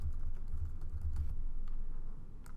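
Computer keyboard typing as a password is entered, a quick run of soft, close key clicks followed by a few scattered taps against a low steady hum.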